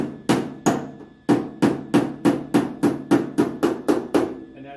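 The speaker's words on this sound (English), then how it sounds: "I'm just using a hammer and dolly, so I'm making sure I get in there." Hammer-and-dolly work on a rusty car door panel during rust repair and welding: a steady run of about fourteen sharp metallic taps, close and loud, evenly spaced and speeding up slightly, with no talking.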